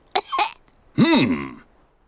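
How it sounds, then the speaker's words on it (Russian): A cartoon character in a Peppa Pig episode coughs with a sick cough, two short quick coughs followed by one longer harsh voiced cough, close and clear with no talk. "У меня кашель."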